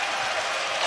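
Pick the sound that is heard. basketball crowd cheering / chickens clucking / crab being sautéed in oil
basketball crowd cheering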